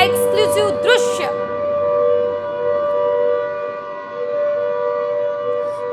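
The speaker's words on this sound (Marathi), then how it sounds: "मुंबईमध्ये एअर रेडचा सायरन वाजलेला आहे" An air raid civil defense siren sounds during a mock drill in Dadar, Mumbai, holding a loud, steady wailing tone. A voice is briefly heard at the start.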